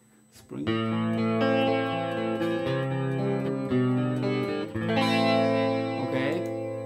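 An electric guitar through a Valeton GP200 strums sustained chords drenched in a springy, splashy spring reverb, the notes ringing and blending together.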